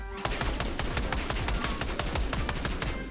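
A Goblin Menace blueprint rifle with a CHF barrel fires one long automatic burst in Black Ops 6, its rapid, evenly spaced shots loud and close without pause.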